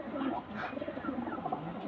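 Domestic pigeons cooing close by, soft low warbling coos rising and falling over a brief stretch, with faint background murmur.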